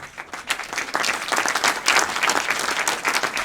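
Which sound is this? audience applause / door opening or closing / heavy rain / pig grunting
audience applause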